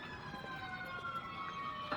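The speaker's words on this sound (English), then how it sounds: "hear the sirens" Emergency vehicle sirens wail at a distance, several overlapping steady tones drifting across a busy background during an active shooting scene on a university campus.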